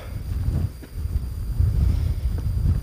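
Strong gusty wind at a winter desert ghost town campsite near caves, blustering in low, uneven surges against the microphone, close and fairly loud throughout with no talk.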